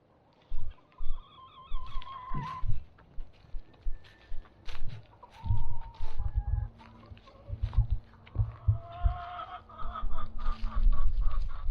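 Lavender Orpington hens cluck and murmur around their coop and run in repeated close bursts, with a few higher calls and some shuffling, and no talking.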